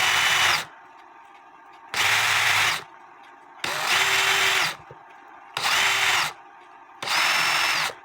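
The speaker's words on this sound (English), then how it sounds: "The drill saves a lot of wear and tear on your hand." A small power drill whirs in five loud bursts of under a second each, separated by quiet pauses, during repair of a Black Forest eight-day cuckoo clock by Schneider.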